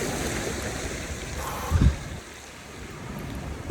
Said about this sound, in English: just enjoy the sound of the ocean